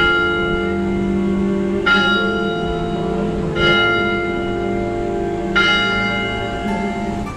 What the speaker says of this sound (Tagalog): Parang itong mga bell na maliliit ang tumutunog.